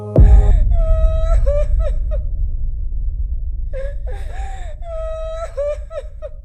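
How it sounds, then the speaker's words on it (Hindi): Sobbing cries of a woman as a horror-story sound effect: a sharp onset, then drawn-out wavering wails in two bursts separated by a pause, loud and close with no talk. "अचानक मुझे किसी की रोने की आवाज सुनाई दी।"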